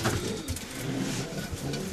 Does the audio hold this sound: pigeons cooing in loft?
yes